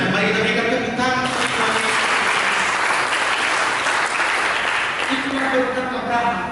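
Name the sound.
congregation applause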